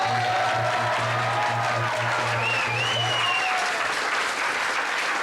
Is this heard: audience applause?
yes